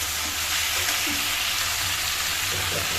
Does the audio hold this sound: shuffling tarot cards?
no